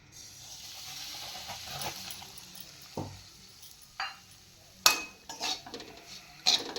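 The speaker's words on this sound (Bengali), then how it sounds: "ঘিটা গরম হয়ে গেছে, গলে গেছে। এবার আমি এর মধ্যে সুজিটা দিয়ে দিচ্ছি।" Semolina tipped into melted ghee in a pan and stirred, a soft scraping shuffle broken by sharp clinks of a spoon against the metal pan, fairly quiet and without talk.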